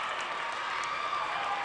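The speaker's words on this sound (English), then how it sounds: "And that crowd is really going crazy." A crowd at a girls' high school basketball game cheers and applauds in a loud, continuous roar of clapping and shouting, filling the whole short moment.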